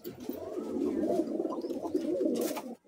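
Pigeons at a Kolkata high-flyer pigeon sale give a sustained, rolling coo, close and clear, ending abruptly.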